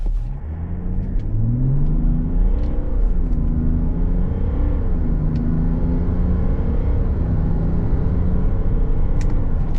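A 2026 Chevrolet Silverado with the Duramax diesel pulls away from idle and accelerates hard toward 60 mph, its loud, close engine note rising and dropping through several gear shifts over a steady rumble.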